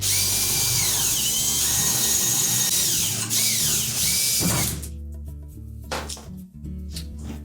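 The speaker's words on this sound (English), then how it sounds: "using an 1/8 inch bit and a portable drill, we're just going to drill those out first" A portable power drill with a 1/8 inch bit whines at high speed as it drills out metal rivets on a refrigerator drawer slide rail, with pitch shifts under load, then stops, leaving clicks and handling noise.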